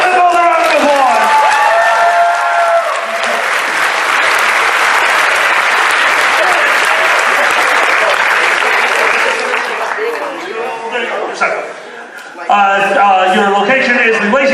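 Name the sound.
audience applause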